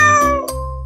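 A single loud, close kitten meow, high and drawn out with a slight break partway through.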